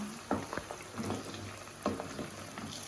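Ginger garlic paste frying in peanut oil for chicken pickle, a soft continuous sizzle with occasional stirring scrapes, quiet and close, no talk.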